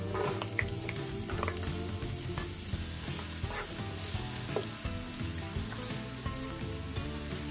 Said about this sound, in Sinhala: සුදු ලූණු සහ අමියඟුරු විනාඩියක් පමණ බැදෙන්න තියන්න.